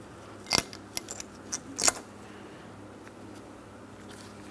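Metal brake caliper bracket tins on a 2003-2007 Cadillac CTS are pulled out by hand, giving a few short, faint metallic clinks and scrapes spaced irregularly against quiet background.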